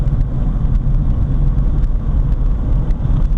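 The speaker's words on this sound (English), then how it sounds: "we'll do another acceleration up here, and I'll go full throttle this time" A 1979 VW Rabbit with a 1.6L diesel accelerates at full throttle, its loud, steady low rumble droning from inside the car with no voices.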